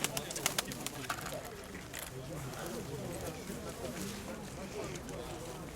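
Pigeons coo softly at a busy market fair in Pavlohrad, their calls mixed into a steady wash of crowd chatter and people talking nearby, with a few sharp knocks early on.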